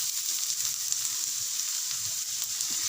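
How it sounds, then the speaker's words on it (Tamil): Finely chopped onions fry in hot oil for a vegetable curry roll filling, a dense, even sizzle that holds steady and close throughout with no voices. "ஆயில் நல்லா சூடானதுமே பொடியாக கட் பண்ண வெங்காயம் சேர்த்துக்கலாம்."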